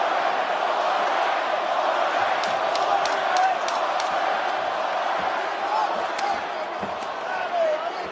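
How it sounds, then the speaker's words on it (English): An arena crowd at a UFC fight roars steadily in support of a fighter late in a round, a constant loud wash of cheering with occasional sharp shouts and thuds on top. "Pro Masvidal crowd voicing their support late in the round."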